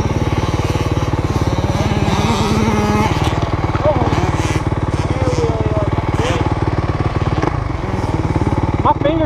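A quad bike engine drones loud and steady throughout a ride, close to the microphone, with faint voices talking over it.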